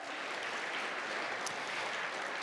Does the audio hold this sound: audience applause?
yes